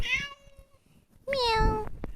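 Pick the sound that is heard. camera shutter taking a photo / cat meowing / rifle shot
cat meowing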